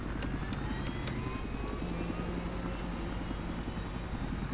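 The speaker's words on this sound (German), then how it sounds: "ich werde den Hubschrauber benutzen" Helicopter in the video game Battlefield 3, a steady droning rotor and engine hum with a constant low throb, continuous and fairly loud with no talk over it.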